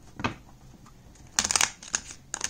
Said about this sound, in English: I feel like shuffling one more time.